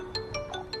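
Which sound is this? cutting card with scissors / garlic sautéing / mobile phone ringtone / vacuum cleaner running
mobile phone ringtone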